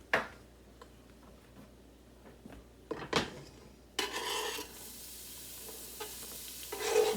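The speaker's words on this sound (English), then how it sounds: "So we're just going to saute the onions and the garlic." Onions and garlic sautéing in a pan, with a soft sizzle, clinks and scrapes of a utensil against the pan, then a louder burst of frying partway through, close and without talk.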